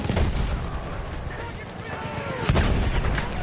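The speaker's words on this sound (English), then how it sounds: "Heads up, grenade out." Loud, chaotic gunfire and heavy booms from a battlefield video game, including a grenade blast, crack close by amid continuous noise with a voice speaking over the action.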